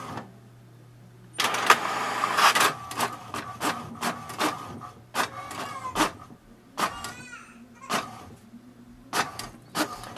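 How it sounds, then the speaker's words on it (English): An HP DeskJet Plus 4132 printer prints an information page: a close whirring motor start followed by rhythmic clicks, feed thumps and short mechanical buzzes over a low steady hum. "click the info button once so that printer prints the password"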